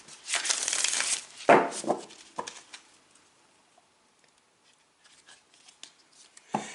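A deck of tarot cards is shuffled up close, giving quick papery riffles and flutters in a few short bursts that fade into near silence, ending with a last brief rustle.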